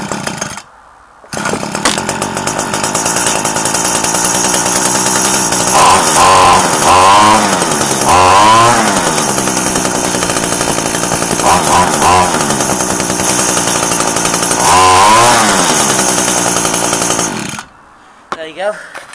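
Echo SRM-2015 two-stroke string trimmer engine held at full throttle after a cold start, a loud steady high-pitched buzz running for about sixteen seconds with slight rises and dips in pitch, starting and ending abruptly.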